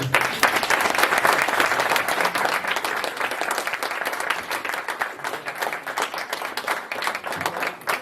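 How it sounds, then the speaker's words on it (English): An audience at the opening of a Somali Bravanese community centre in London gives sustained applause, dense clapping from many people throughout, loud and continuous with no voices on top. "the one person standing here who deserves a massive round of applause is Afurka Ali"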